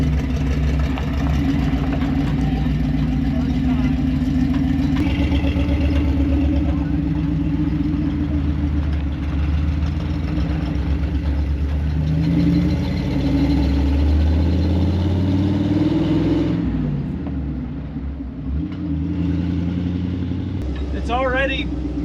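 Dodge Power Wagon truck engine running through a new custom exhaust, a steady loud low rumble throughout with a brief dip and revving swell midway, people talking over it.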